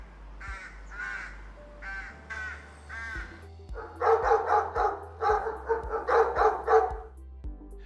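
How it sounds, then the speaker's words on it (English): Crows caw in repeated harsh calls over an ambient bed, with a few dog barks behind them, mixed as layered library sound effects. "And some crows and distant dog barks."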